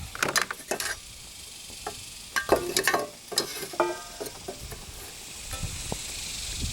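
A portable stove is lit with a few sharp clicks and rustling handling noises, then settles into a soft, steady burning hiss that grows slightly toward the end.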